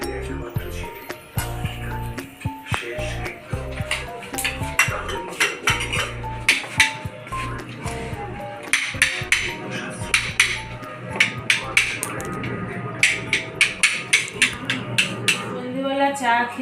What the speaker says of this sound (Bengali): এখন শিম কাটছি